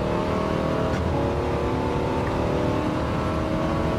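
A 1969 De Tomaso Mangusta revs hard in a racing video game, its engine a loud, continuous roar holding throughout without any talk.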